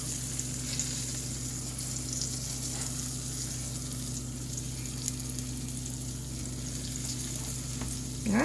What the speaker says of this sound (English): We've got our pork chops browned.